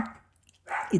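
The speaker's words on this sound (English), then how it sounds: "I'm not sure if you can hear the barking dog in the background." A dog barks once or twice in the background, short and muffled, over a quiet room.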